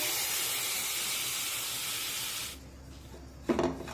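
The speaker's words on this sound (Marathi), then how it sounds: "आता यामध्ये एक बारीक कट करून घेतलेला टोमॅटो टाकूया" Finely chopped tomato goes into a pan of sautéed jowar flour for a breakfast ukadpendi, with a loud, steady sizzling hiss that suddenly drops away, followed by a brief stirring scrape.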